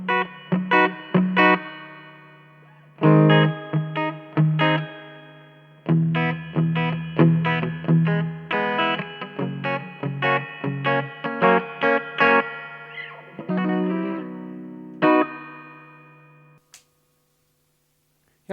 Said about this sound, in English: The reverb is pretty cool.